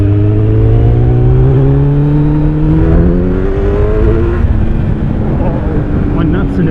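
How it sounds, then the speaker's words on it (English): A Kawasaki Z900 motorcycle with an Akrapovic exhaust rises loudly through the revs, its engine note climbing steadily, then drops as it downshifts, with wind rush throughout and a voice over the end. "And I'm downshifting with an Acra. It's heaven."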